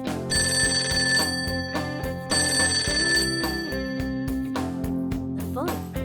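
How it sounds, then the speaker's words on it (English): At Cafe LeBlanc in the video game Persona 5 Tactica, a telephone rings in two bright electronic bursts over busy background game music, and a voice speaks briefly near the end. "The phone."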